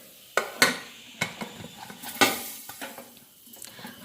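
Popcorn kernels popping inside a covered pressure cooker on the stove: several sharp, irregular cracks, some close and loud, others fainter, over a low sizzling background.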